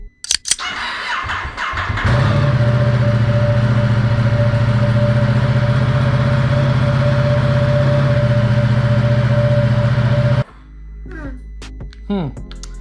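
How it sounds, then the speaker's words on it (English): A 2022 Ducati Diavel 1260 S is started after a battery swap: a short crank catches into a loud, steady idle with a deep throbbing hum close up, running about eight seconds before cutting off into quieter handling noises. "Let's see if she starts."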